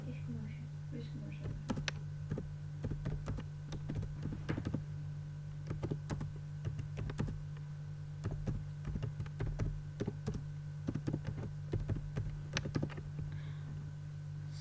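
Keys clatter on a computer keyboard in scattered bursts of close taps with pauses between, over a steady low electrical hum, with a voice speaking at times.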